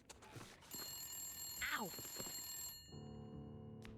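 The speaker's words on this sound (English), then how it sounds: "there's the phone ringing again" A telephone rings with a bright, sustained trill in the game Wintermute, alongside a short pained cry from a voice; a low humming ambience takes over as the ring stops.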